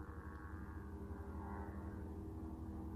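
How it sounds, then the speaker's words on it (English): A distant aircraft, an airplane or helicopter, passes far below a high desert mountain peak in the Nevada wilderness, its faint, steady low drone hanging in the quiet air. "I hear an airplane below me, airplane or helicopter."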